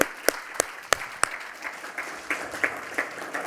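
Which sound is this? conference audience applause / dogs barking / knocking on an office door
conference audience applause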